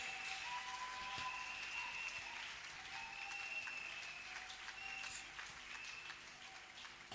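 A church congregation claps together in a steady, dense patter that fills the space, soft and somewhat distant, with no talking over it.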